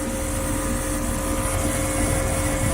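An older Trane XE1100 heat pump running, giving a loud, steady mechanical droning hum with a constant tonal whine, close and continuous with no speech.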